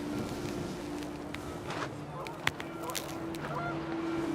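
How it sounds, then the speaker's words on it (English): Panicked geese honk in What Remains of Edith Finch, a steady nasal honking over wind-like ambience, broken by a sharp click and light footsteps. "panicked geese appeared and quickly went"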